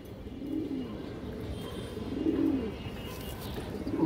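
Racer pigeons coo softly in a loft, repeated low throaty rolling calls overlapping with one another under a faint background hiss, with no one talking.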